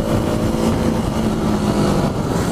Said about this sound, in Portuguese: Ronquinho de um cilindro.